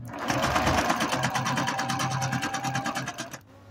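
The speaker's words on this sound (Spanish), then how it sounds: "Vamos a empezar haciendo costura recta." A Singer 9836C sewing machine runs a straight stitch, a rapid even mechanical chatter close up that slows slightly and stops abruptly near the end.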